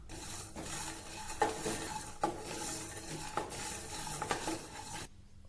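Peanuts, coriander seeds and cumin dry-roast in a pan on a low flame, with a soft crackling hiss and repeated spoon scrapes and clinks against the metal until the sound stops abruptly.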